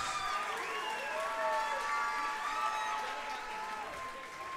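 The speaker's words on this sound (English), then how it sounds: "let's give both fighters a big round of applause" Crowd at a fight venue applauds both fighters after a three-round bout, a broad wash of clapping and cheering with overlapping voices and tonal sounds over it.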